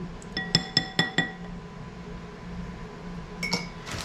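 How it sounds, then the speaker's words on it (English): A spoon clinks against a bowl while stirring Mongolian beef sauce: a quick run of five bright, close taps, a pause, then a couple more light clinks. "And stir it around."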